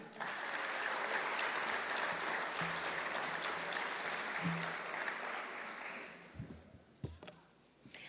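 An audience at an 8th grade promotion ceremony gives a full round of applause that holds steady and loud for several seconds, then fades out, leaving a few scattered thumps and rustles.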